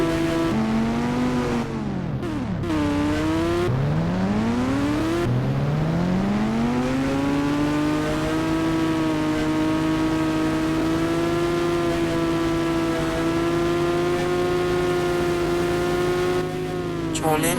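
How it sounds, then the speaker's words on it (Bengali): A ridden motorbike's engine revs up and drops several times in quick succession, its pitch swooping, then settles into a steady, close humming drone. "দেখেন আমি কিভাবে বাইক চালাই"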